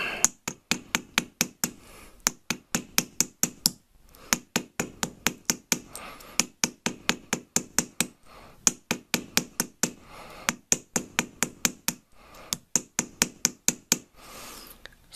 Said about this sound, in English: take the flat side of your hammer, just very gently tap it